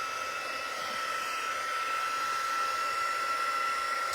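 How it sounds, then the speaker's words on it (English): Embossing heat gun for paper crafting blows a steady, loud whirring hiss with a constant high whine, running alone and unchanged throughout. "I'm gonna turn on my heat tool."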